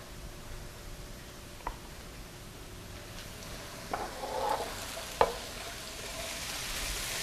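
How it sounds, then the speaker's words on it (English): Onion and red pepper being stirred through sauce in a pan for homemade meatball sauce, a soft steady sizzle with occasional scraping clinks of a utensil against the pan, fairly faint and continuous. "So I'll just stir this around"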